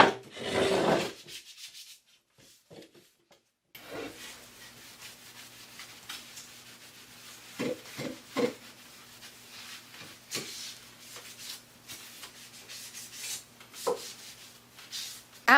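Wooden side tables being scuff sanded by hand, a steady soft rubbing with scattered louder scrapes and knocks, close and moderately quiet, following a brief burst of noise and a near-silent gap at the start.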